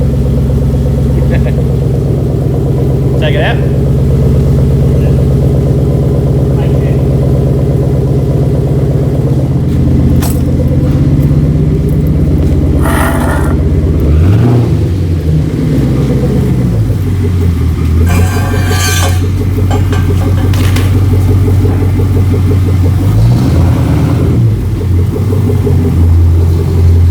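A Nissan R33 Skyline sedan engine idles loudly and steadily nearby, with a deep continuous rumble, then revs up and falls back in a couple of swells over the idle.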